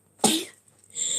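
A single sharp sneeze bursts out loudly, then fades into quiet with faint breathy noise afterward.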